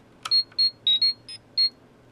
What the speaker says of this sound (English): The communicator beeps are a very nice touch for the power switch.